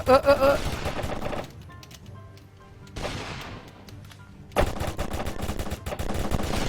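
Rapid gunfire from a computer shooting game, with bursts of shots up front, a quieter lull, then renewed dense firing toward the end, with music or other game sounds underneath.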